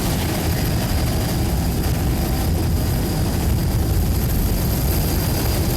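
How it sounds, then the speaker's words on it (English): A Mercury 500-horsepower racing powerboat engine roars continuously at close range during an offshore powerboat race in Corpus Christi, Texas, a dense and unbroken drone with no talk. "Linebacker powered by one Mercury 500 horsepower engine."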